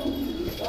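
Pigeons cooing softly on a cold rooftop loft of racing homers, a short low murmuring coo heard close and continuous with no talk over it.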